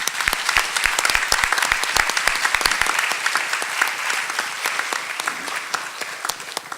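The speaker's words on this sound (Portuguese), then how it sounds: "quiero que de todos modos a Eke y a Vincent le demos un aplauso cariñoso" An audience at a political debate and book launch applauds warmly, with sharp, close individual claps over a dense, sustained wash of clapping that thins slightly toward the end.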